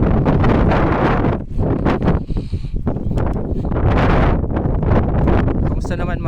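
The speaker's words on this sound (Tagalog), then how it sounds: "Solid ng hangin." Strong, gusty wind buffets the microphone on a mountain trail traverse in Zambales, a loud continuous roar with rustling bursts, while hikers talk over it throughout.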